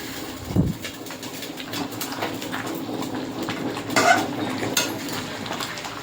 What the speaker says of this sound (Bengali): এবার ঢাকা খুলে দেখে নেবো চিকেনটা।